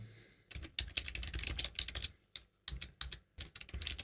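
Code being typed on a computer keyboard in quick, close bursts of clicking keystrokes, broken by two brief pauses, with no talk over it.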